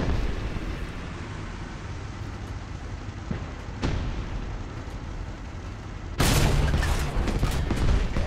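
A Type 3 Chi-Nu medium tank in War Thunder fires, with a sharp report near the middle and a heavier booming blast later, over a steady rumbling engine and battlefield background.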